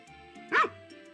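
A single short dog bark in Harvest Moon, one close yap over faint background music.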